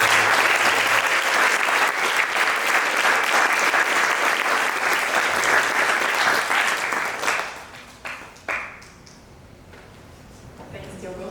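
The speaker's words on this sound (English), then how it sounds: "let's give a round of applause to everyone involved" An audience applauds loudly and steadily at a hackathon opening ceremony in Miami, a dense wash of clapping that fades out after about seven seconds, leaving a few scattered claps.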